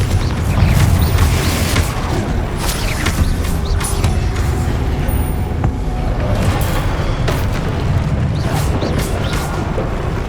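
In the Hogwarts Legacy video game, a Confringo spell fires amid dense combat effects: a loud, continuous rumble of magical blasts and impacts with crackling bursts, heavy low-end booms and scattered sharp hits throughout, with no talking.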